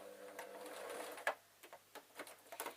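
A sewing machine stitching a cushion cover panel at a fold runs a short burst, then taps out a series of separate quick stitches, close and fairly quiet.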